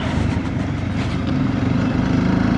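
Close engine rumble from a TVS Apache RTX 300 adventure motorcycle on the move, throbbing steadily with buffeting wind over a short stretch, unaccompanied by speech.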